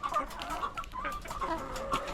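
Several chickens cluck steadily and close by, with overlapping calls forming a continuous busy barnyard chatter.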